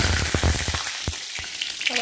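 Curry leaves, onion and garlic fry in hot oil for a fish stew, giving a steady close sizzle broken by a few sharp crackles and pops from the spluttering leaves.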